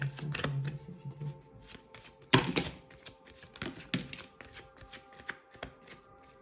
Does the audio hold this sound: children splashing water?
no